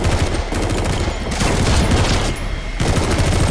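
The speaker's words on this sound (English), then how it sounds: "Oh, he is shooting." Dense, continuous gunfire from the Metal Gear Solid V prologue, rapid overlapping shots and bursts filling the whole stretch loudly with no pauses and no talking.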